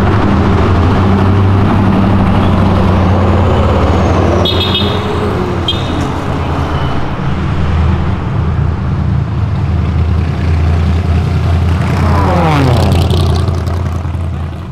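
Cars, including sports cars, pass along a busy city avenue in Brazil, with a continuous loud wash of traffic and engines rising and fading as vehicles go by up close.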